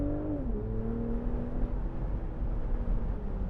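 A 2019 BMW Z4 M40i roadster's engine hums steadily with a smooth, moderate drone and a slight pitch dip early on, mixed with road and wind noise while driving.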